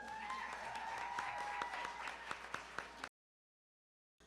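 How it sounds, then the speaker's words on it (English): Audience applause for honorees at a women's reception, a steady round of clapping from a crowd that thins to a few distinct individual claps before cutting to silence. "Clap it up for them"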